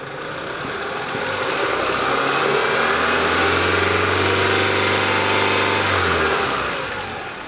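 A 1991 Honda Accord engine revs up in one smooth, loud climb, holds briefly, then drops back down to a steady idle, heard close with no voices.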